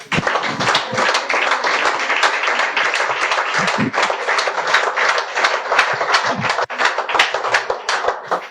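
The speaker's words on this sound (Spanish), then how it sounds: "Dale el aplauso al Rey" A church congregation applauds during a Spanish-language sermon, a dense, loud and steady roar of many hands clapping for the full stretch with no talk over it.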